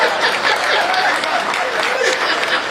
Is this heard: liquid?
no